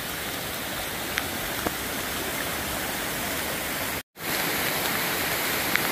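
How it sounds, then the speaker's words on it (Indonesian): Madakaripura twin waterfall pours in a steady, dense roar of falling water, loud and close, with a brief dropout partway through; no voices. "Nah, ini air terjun kembar."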